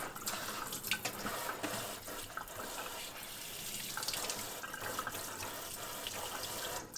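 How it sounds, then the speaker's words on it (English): Tap water runs steadily into a kitchen sink as leaves for bánh chưng are washed, a continuous splashing rush with small irregular clatters and drips, close and alone with no talking. "Next, we'll wash and dry our leaves."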